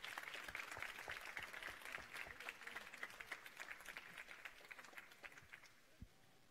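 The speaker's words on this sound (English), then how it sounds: "Give them a big applause." Audience applause closing a talk at an MIT startup event, a broad wash of scattered hand claps that thins out toward the end, with a few louder individual claps standing out.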